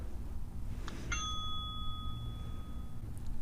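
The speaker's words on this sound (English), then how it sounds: "I heard the ringtone." A single bright electronic chime from a Eufy Wired 2K video doorbell rings out and sustains for a couple of seconds over a steady low background hum.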